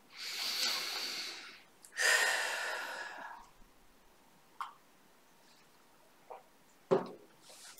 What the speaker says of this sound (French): Et vous prenez une profonde inspiration.